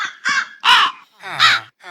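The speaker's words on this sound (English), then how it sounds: "just wait long enough for all the crows to get over here" Crows in the Minecraft Create modpack caw in three loud, harsh calls spaced across a short stretch, close by with no talking.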